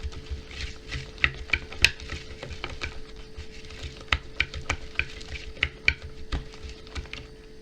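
A spatula stirs cake batter after sesame seed paste is mixed in, giving close, quiet, irregular taps and soft scrapes against the bowl, steady strokes under a faint constant hum.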